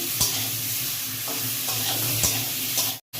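Green mango pieces frying in oil with turmeric for a Bengali chutney, a dense, close sizzle with a few spatula stirs, cutting out abruptly just before the end.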